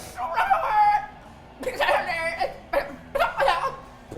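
A human voice imitating a terrifying chicken sound from a beakless creature, several squawking, cackling bursts with laugh-like breaks, close and loud.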